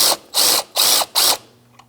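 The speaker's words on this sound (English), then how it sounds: "Now we're going to loosen up the alternator belt tensioner, 12mm socket." A hand ratchet with a 12mm socket clicks in four loud, evenly spaced bursts while loosening the alternator belt tensioner on a 2004-2009 Subaru Outback, then stops; up close and without talk.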